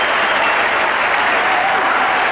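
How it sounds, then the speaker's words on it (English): A packed cricket ground at the 1992 World Cup semi-final between Pakistan and New Zealand, with New Zealand fans on their feet as their captain walks off, erupts in loud, dense, continuous applause and cheering that holds steady throughout. "all the Kiwis at the ground are out of their seats at the moment, cheering the New Zealand captain off the ground"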